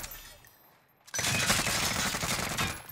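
Call of Duty Warzone gunfire: a quiet, muffled stretch breaks suddenly into loud, dense, sustained shooting with overlapping rapid shots that keeps going to the end.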